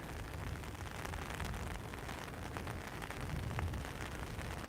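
Heavy rain pours down outdoors in Lytham, a steady, dense hiss of drops filling the whole clip with no one talking.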